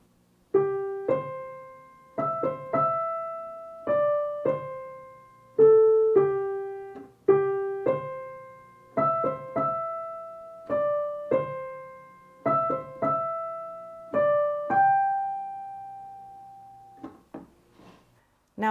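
Solo piano plays a simple, evenly paced melody of separate notes and chords, each ringing and decaying, ending on a long held chord.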